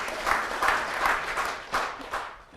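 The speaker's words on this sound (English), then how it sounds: "Yeah, that deserves a round of applause." An audience at a talk claps in a round of applause, a dense, moderately loud patter of many hands in uneven waves that thins out toward the end.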